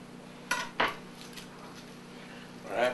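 Garlic cloves are smashed with the back of a knife on a cutting board, giving two sharp close knocks in quick succession. A softer scraping clatter follows a couple of seconds later, with no talking.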